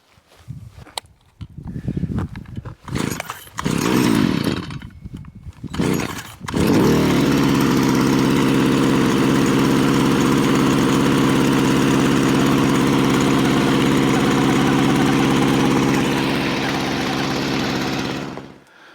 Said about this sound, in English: I have got my DeWalt 20 volt max pole saw with me